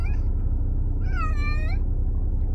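A cat meows inside a car during a short drive: one long, clear, drawn-out meow in the middle, close and loud over a steady low road and engine rumble.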